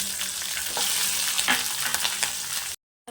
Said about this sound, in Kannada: ಇದಕ್ಕೆ ನಾನು ಕಟ್ ಮಾಡಿ ಇಟ್ಕೊಂಡಿರೋ ಅಂಥ ಹಸಿರು ಮೆಣಸಿನ್ಕಾಯಿನ ಹಾಕ್ತಾಯಿದ್ದೀನಿ